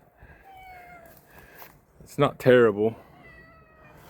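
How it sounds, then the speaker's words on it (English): A cat meows near a 2002 Z71 truck, a drawn-out, rising and falling cry close by, following a brief chirp, with a person speaking just before. "this guy's meowing at me."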